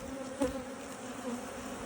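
Honey bees hum at an open beehive during an inspection, a steady soft drone with a slightly louder swell near the start, moderately close and quiet, no voices.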